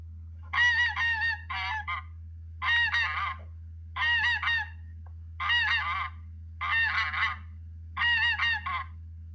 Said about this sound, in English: The funny goose honked a loud hello.